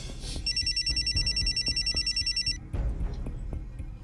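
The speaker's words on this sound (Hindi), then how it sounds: "फोन बज रहा है।" A telephone bell rings in a fast, repeating electronic trill for about two seconds over low room noise, followed by quieter background sound.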